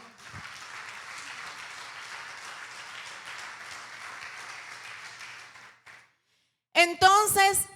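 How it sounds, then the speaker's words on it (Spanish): Church congregation applause during a Spanish-language sermon, a long, even patter of many hands that holds steady for several seconds, fades out, and gives way after a short silence to a voice speaking. "Dele un aplauso al Señor."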